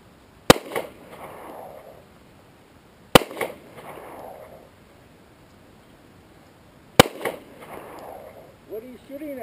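Three sharp, loud .38 Special revolver shots fired at targets outdoors, spaced a few seconds apart, each with a short echoing tail, and a voice is heard briefly near the end.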